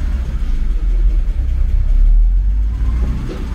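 A 2013 Subaru BRZ engine running on the road through its six-speed gearbox, a steady low rumble that swells and eases with the revs, close and fairly loud with no talking.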